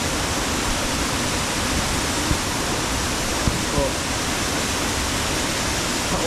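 Water rushes steadily at a hydro plant, a dense, continuous roar like a waterfall heard from nearby, with a single spoken word at one point.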